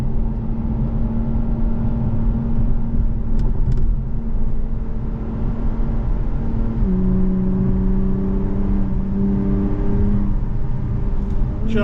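A 2023 Acura TLX Type S drives and accelerates, its engine droning steadily from inside the cabin, the pitch climbing and then shifting as the transmission changes gear, with no talk.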